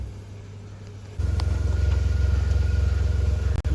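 A modified car engine idles close by, a steady low rumble that steps up into a fuller, pulsing drone partway through, with no talking.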